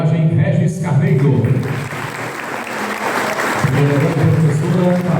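An audience at a book launch event applauds, a steady wash of clapping hands heard while someone speaks over it through a microphone.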